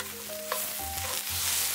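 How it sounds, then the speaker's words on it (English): Bok choy and shiitake mushrooms sauté in a hot pan, a soft sizzle running steadily under close stirring and light scraping. "We're just gonna let this saute for a little bit till the bok choy just starts to wilt"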